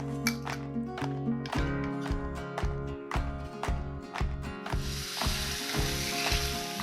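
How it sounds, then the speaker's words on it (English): Steak laid into hot oil in a pan sizzles, a close hiss rising and holding steady under repeated sharp taps and scraping knocks of utensils. "You wanna hear that nice sizzle."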